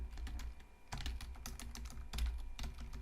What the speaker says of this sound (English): Oh my goodness, I'm typing.